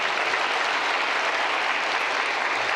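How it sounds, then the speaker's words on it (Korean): A church congregation at a Sunday worship service claps in a dense, continuous roar of applause that holds steady and fairly loud throughout, with no speech over it. "우리 주님 앞에 영광의 박수 돌립시다"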